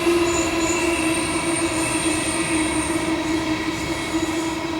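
A train passes close by on the rails with a loud, steady rumble and a faint sustained metallic whine that holds evenly throughout, with no voices.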